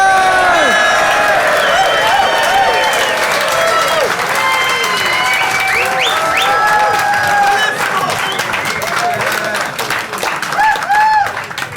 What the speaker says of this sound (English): Put your hands together and welcome to the stage, Nicholas to Santo!